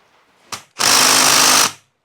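A power tool drives a bolt into a 1985 Honda ATC 250R engine during a rebuild: a brief click, then one steady, loud whirring burst of about a second, close by, with no talk.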